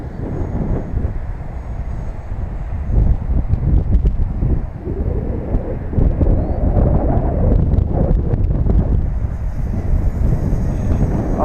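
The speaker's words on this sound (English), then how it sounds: "it's ripping windy" Strong wind blasts directly across the microphone outdoors, producing a steady, loud, low rumbling roar with gusty surges throughout and no speech.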